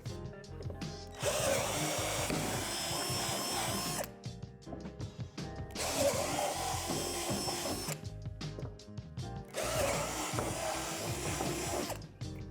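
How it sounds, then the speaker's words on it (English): Three long bursts of a power drill with a 3/8 bit whining loudly through a plastic swing-set slide, each lasting a few seconds with short quiet gaps between them. "Start by drilling out the 3 divots at the top of the slide with a 3/8 drill bit."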